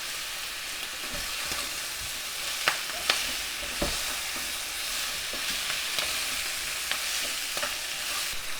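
Pork ribs fry in a pan as they are stirred to coat them with sugar, making a steady close sizzle broken by scattered scraping and clacking stir knocks, with no talking.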